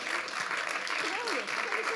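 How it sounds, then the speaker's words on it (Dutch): An audience applauds two prize winners at a Dutch spelling dictation contest, giving steady, full applause throughout, with a voice briefly calling out over it. "Nou, nog een applaus voor Tom en Henrike."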